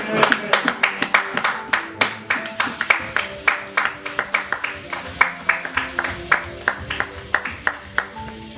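A church congregation claps in a steady, rhythmic beat to acclaim the Lord, many hands together at close range, with voices underneath.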